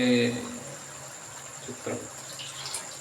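Tap water runs steadily into a home kitchen sink while paneer is prepared for paneer tikka masala, a soft continuous hiss, with a brief voice at the very start.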